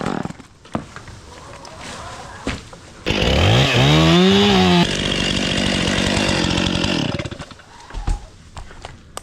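Two chainsaws roar together while cutting into a tree, loud and close, with pitch swooping as the engines rev over several seconds, framed by quieter rustling before and after.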